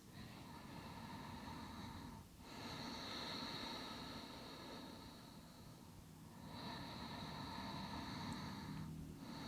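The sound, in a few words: slow breathing during yoga relaxation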